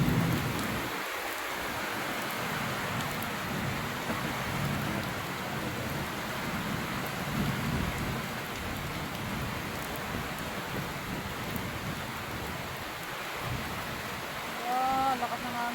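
Heavy rain pours down steadily in a dense, even hiss, with a faint low rumble and brief sounds near the end.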